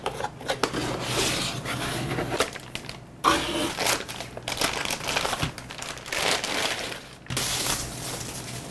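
Packaging for a Monsta MK108 V2 mechanical keyboard is unboxed up close: crinkly plastic and cardboard rustle, rub and crackle in uneven bursts, broken by brief pauses.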